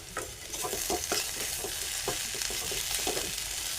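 Potato bhaji being stir-fried in a pan gives a steady, close sizzle with quick rhythmic scraping strokes of the spoon, loud and continuous over a few seconds, with no speech.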